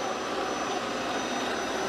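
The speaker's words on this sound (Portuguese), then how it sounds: "a gente vai para a cozinha, porque a batedeira está funcionando" An electric kitchen mixer whips cream toward chantilly, a steady, dense whirring drone that holds even and fairly loud without pause.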